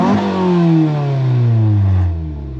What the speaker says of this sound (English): you want to get yourself a custom-made exhaust system, because this thing sounds nuts.